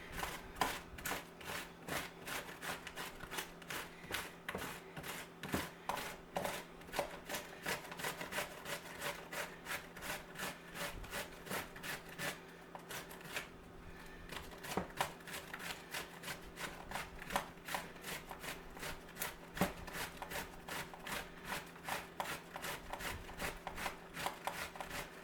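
Zucchini being grated by hand for walnut bread, a steady rhythmic scraping of rapid back-and-forth strokes, close and fairly quiet, with no talk.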